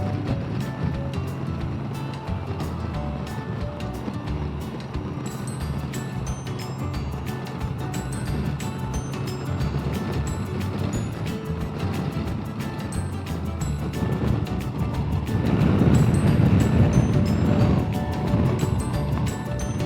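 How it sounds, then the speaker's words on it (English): Wind roars past a rider on a 2018 or later Honda Goldwing motorcycle, a continuous broadband rush with engine rumble underneath that grows louder toward the end. "You can hear the wind, I'm sure."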